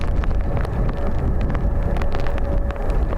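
Strong wind batters a microphone outdoors at Dublin Airport during high winds, making a loud, steady low roar and buffeting rumble with faint higher gusting hiss, and no voices.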